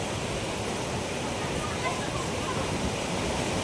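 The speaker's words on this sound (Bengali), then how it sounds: "দেখুন, গুন্ডিচা ঘাই ওয়াটারফলস। জল দেখুন, খালি ফ্লো দেখুন" Gundicha Ghai waterfall in Keonjhar pours a heavy, steady torrent of water, a dense broadband roar that holds constant throughout without any break.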